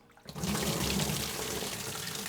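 Water drains from a beer keg into a plugged sink, starting suddenly and then running as a steady, close, rushing gush until the end.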